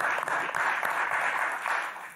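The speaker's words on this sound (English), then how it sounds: "Big round of applause" Soft, fairly distant round of applause from a small audience at a televised community health panel, short and even, with a few sharper claps standing out.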